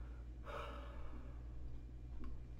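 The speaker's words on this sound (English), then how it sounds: "I'm sorry, another yawn" A single soft, breathy yawn from a person during a recorded history lecture, quiet against a low steady hum, with a faint breath near the end.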